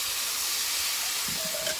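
Fire-roasted Rotel tomatoes hit a hot paella pan with a sustained, loud steamy hiss that rises into a bright sizzle toward the end, heard alone without talk.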